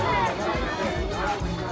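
Dense festival crowd at a ghat in Mathura during Janmashtami: a continuous hubbub of many voices chattering close by, with a nearer voice talking over the murmur.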